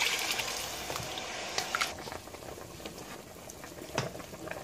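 Water is poured into a pot of rice for aloo chawal, giving a steady close hissing, bubbling wash with a few brief splashy spikes, and no voices.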